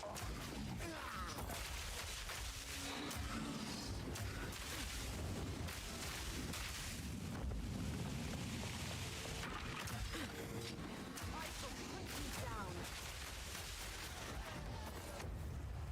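Explosions in Path of Exile 2 gameplay: a continuous, rumbling barrage of blasts and crashing impacts, fairly quiet overall and sustained without a break.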